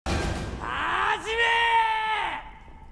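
Screaming from several people in a chaotic, violent samurai fight at a temple, a loud drawn-out anguished wail with harsh yells and a thud at the start, close and intense.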